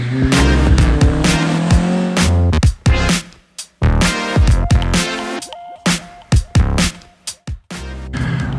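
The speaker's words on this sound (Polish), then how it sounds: "Jak słychać, jeszcze jazdy się odbywają, ale już są to wolne przejazdy." Classic race car engines roar loudly and close on the Kielce track, revving up and down as cars pass slowly and shift gears, with brief gaps of quieter idling.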